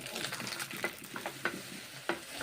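Boiled Maggi noodles are stirred into frying egg in a pan: a steady sizzle runs under repeated scraping and stirring strokes, close and moderately loud, with no voices.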